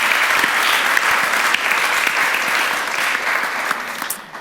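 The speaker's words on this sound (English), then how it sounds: "please give us a round of applause for our artists and contributors" An audience at a book launch for African artists at Sotheby's London gives a dense, sustained round of applause, close and continuous, easing off at the end.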